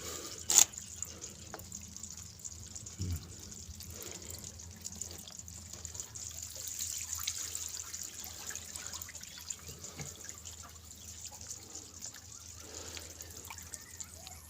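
Faint, steady trickle of water flowing into a frog-rearing pond, a low continuous wash with a few small splashes, heard alone.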